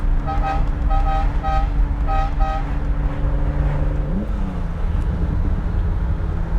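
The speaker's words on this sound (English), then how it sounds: "it's got those wonderful Ferrari Fiam horns." Fiamm horns on a 1972 Ferrari 365 GTC/4 with a V12, sounded in several short bright two-tone toots in quick bursts over a steady engine hum, with a rising engine note close by afterward.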